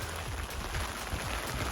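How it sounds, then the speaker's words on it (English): Rain falls steadily on a small umbrella along a hiking trail, a dense, continuous patter close by with no pauses and no voices. "It's raining"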